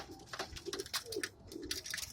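Van Loon checker pigeons in a loft, soft repeated cooing and low burbling calls with faint rustling, heard close but quiet with no talk.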